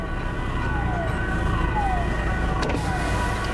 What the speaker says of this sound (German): Da kommt er schon, ich höre die Sirenen.